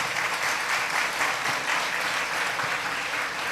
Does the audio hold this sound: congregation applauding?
yes